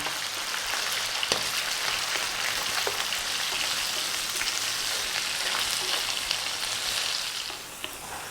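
Chopped onion with salt sizzling and frying steadily in a pan, a dense continuous crackle with occasional stirring ticks, close and loud throughout, with no voices.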